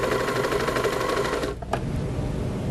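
A BERNINA 1300 MDC serger/overlocker runs and stitches with a steady, fast mechanical whirr and patter, near and loud, briefly pausing before resuming, with no talking.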